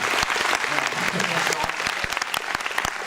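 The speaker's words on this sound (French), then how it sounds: "Tu vas te faire applaudir chaudement." An audience at the Cinéland 2018 short film festival opening ceremony in Brittany giving the festival sponsor a dense, steady round of applause, many hands clapping together with some crowd noise mixed in.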